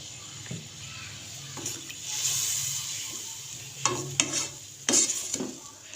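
Milk and vermicelli simmering in a pan over low heat for creamy seviyan, a bubbling, stirring cooking sound with intermittent clatters and splashy bursts, close by and without speech.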